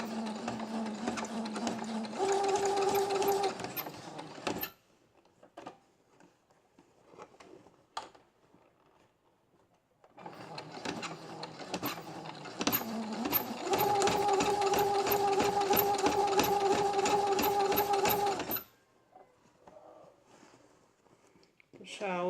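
Sewing machine stitching along the edge of a bag with a built-in lining, running in two long loud bursts with a quiet pause between them.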